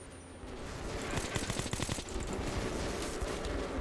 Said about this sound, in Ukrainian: Хто кидає ці гранати, я не можу зрозуміти